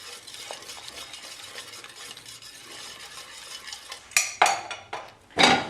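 Cream stirred into a chicken fricassee gravy in a pan, soft continuous scraping and low sizzling, then several louder spoon clanks and scrapes against the pan toward the end.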